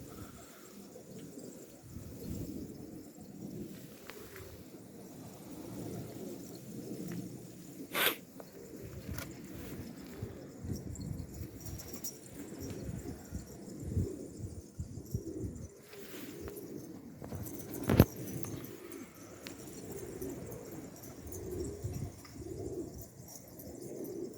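Pigeons coo repeatedly in a loft, soft low rolling calls overlapping one another at close range, with a few sharp rustles and faint chirps mixed in, and no talk.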